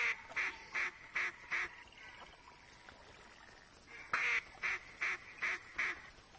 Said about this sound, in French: Vous voyez, il y a des canards.